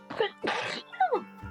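A single sneeze, close and fairly loud, with a short breathy lead-in and a sharp burst, followed by a brief quieter sound.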